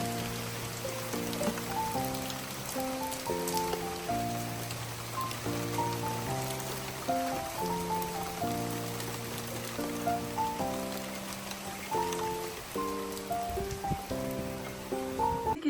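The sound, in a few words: rain falling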